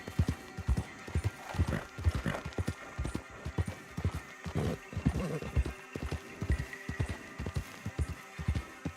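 Galloping horse in a Red Dead Redemption 2 game scene, hooves pounding in a steady rapid rhythm close by, with an occasional whinny and no talk over it.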